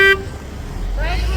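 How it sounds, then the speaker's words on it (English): Car horns honk in the street outside a protest at an execution in Huntsville, Texas, with a loud tonal blast at the start and a second rising horn toot near the end over steady traffic rumble. "People are honking, people are protesting still."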